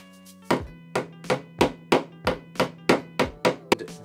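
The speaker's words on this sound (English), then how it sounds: "and use the side of your hammer." Wire staples tapped into place with the side of a hammer while mounting LED lighting in a studio: about nine crisp, evenly spaced knocks, close and fairly loud, with no talking.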